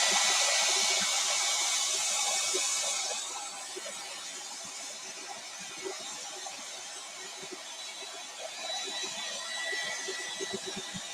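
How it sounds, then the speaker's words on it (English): A hair dryer runs steadily in an indoor craft space, louder for the first few seconds and then dropping to a lower, continuous blowing hiss, with faint clicks and handling noises underneath. "That's why I'm using a hair dryer."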